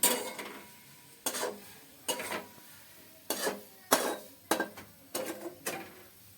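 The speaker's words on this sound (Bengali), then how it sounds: "আর এদিকে একটা কড়াই বসিয়ে দেবো" A kadai is set on a village kitchen stove amid clattering pots and pans: around nine close metallic knocks and scrapes at uneven intervals, with quiet gaps between them and no speech.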